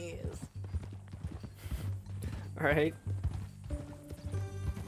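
Horse hooves clip-clop in Red Dead Redemption 2 as a steady, close walking rhythm under a brief spoken exchange, with a short animal snort or whinny midway.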